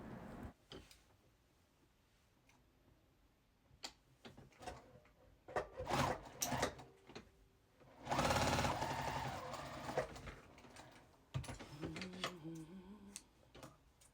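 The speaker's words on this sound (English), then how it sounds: "I'm just sewing 2 strips of binding together on a diagonal." A sewing machine joins two strips of quilt binding on a diagonal, running in short bursts with pauses and a louder, longer run near the middle.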